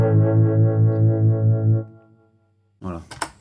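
Guitar through a tremolo effect on a pedalboard rings out as a sustained, loud chord pulsing in steady volume waves for nearly two seconds, then fades before a person starts talking.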